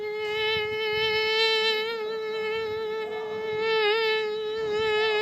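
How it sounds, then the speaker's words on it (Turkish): A steady, close buzz of a fly drones on without a break, its pitch wavering slightly and rising in intensity a couple of times. "sinek sesi"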